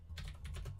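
Typing on a computer keyboard, a quick, faint run of soft key clicks close by, with no voices.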